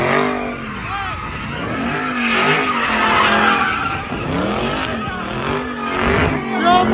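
Car tires squeal and skid loudly while burning rubber, with engines revving underneath in a continuous, wavering screech that rises and falls over several seconds.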